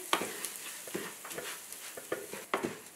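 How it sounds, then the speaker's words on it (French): Rice and chopped onion being stirred in an oiled pan, giving a series of soft scraping and clinking strokes at an uneven rhythm over a faint sizzle, close and quiet, with no voices. "Et on mélange jusqu'à ce que le riz soit translucide."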